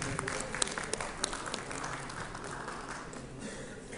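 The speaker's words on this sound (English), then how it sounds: "Can we have a round of applause, please?" An audience at an oncology medical summit gives a round of applause, a steady wash of many hands clapping at moderate distance, fading slightly toward the end.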